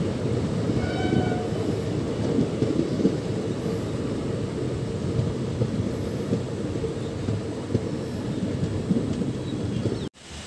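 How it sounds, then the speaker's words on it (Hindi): Passenger train 05118 on the Pratapgarh–Banaras route pulls out of Dandupur station, a steady, loud rolling rumble of wheels and carriages that holds unbroken for about ten seconds before cutting off abruptly. "ट्रेन का डिपार्चर दोस्तों हो चुका है दांदूपुर से।"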